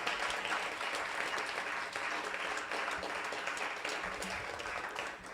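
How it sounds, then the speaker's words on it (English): A keynote audience breaks into massive applause: a thick, sustained wash of clapping from a large crowd, loud and even throughout with no talk over it. "can we just have a massive round of applause for just the achievement in actually doing this?"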